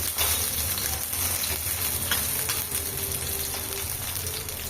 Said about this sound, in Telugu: ఇలా వేగించుకోవాలి బాగా చూడండి ఎంత మంచిగా అయితే వేగావు మిరపకాయలు